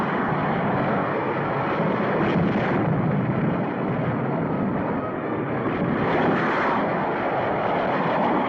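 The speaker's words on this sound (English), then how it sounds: "Enemy jets attacking dam." Enemy jet aircraft roar over Boulder Dam in a 1952 Cold War invasion film, a loud, sustained engine rumble that swells and fades in two passes with a dense, explosive wash beneath, no voices.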